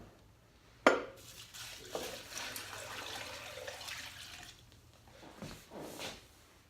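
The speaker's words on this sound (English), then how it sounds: "And then we're gonna put our water in." Water poured into a pot for making beef broth, a steady splashing stream after a sharp clank, lasting a few seconds before tapering off.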